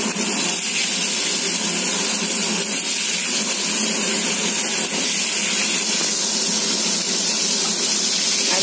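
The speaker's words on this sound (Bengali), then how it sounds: "এবার এই টুকরো করে রাখা আলুগুলো এর মধ্যে দিয়ে দেবো।" Potato pieces hit hot oil seasoned with whole cumin and crushed garam masala, giving a loud, continuous frying hiss and spatter close by, with no talking.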